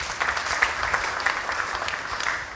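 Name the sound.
applause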